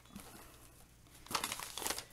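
White tissue paper, a 20-by-20-inch sheet from a pack, being handled: faint rustling at first, then louder close crinkling bursts in the second half.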